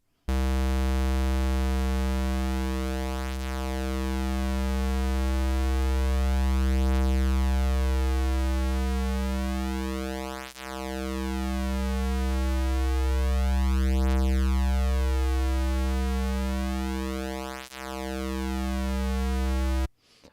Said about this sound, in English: we're going to hear that classic detune sound